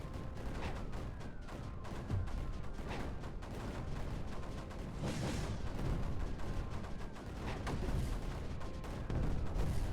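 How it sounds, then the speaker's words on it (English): Steady rumbling barrage of overlapping explosions in the strategy game Creeper World 4, a continuous mid-loud mix of booms and crackling bursts with no voices. "everything's exploding, but it's fine"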